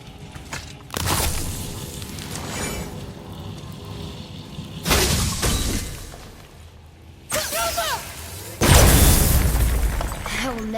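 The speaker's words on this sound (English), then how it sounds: "never get tired of shattering things with this." Objects shatter in the God of War video game: loud, heavy bursts with crashing debris arrive in several distinct waves, separated by quieter rumbling stretches.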